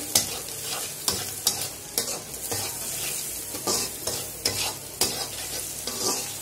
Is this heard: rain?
no